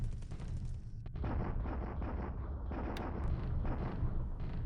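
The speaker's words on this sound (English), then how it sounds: "I might try bombarding him to see what that does." Artillery bombardment in the War in the Pacific strategy game, a rumbling series of heavy booms and blasts rolling continuously with scattered sharper cracks.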